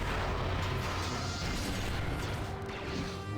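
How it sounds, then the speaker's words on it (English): Concussion grenade blast in a video game, a dense, loud roar of explosive noise that fills the whole short stretch without a break, with no speech over it. "Concussion grenade. A second concussion grenade."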